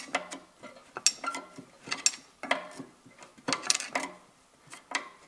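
A rear brake adjuster on a 2002–2010 Toyota Prius is turned by hand, giving a series of close, sharp ratcheting clicks and small metallic ticks in an irregular rhythm, with no one talking.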